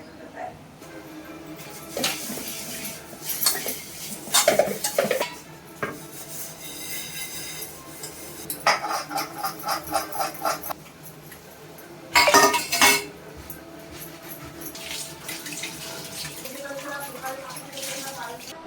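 Dishes clink and clatter in bursts while water runs at a sink, with a person talking off and on in the background.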